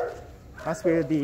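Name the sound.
police dogs barking at a training facility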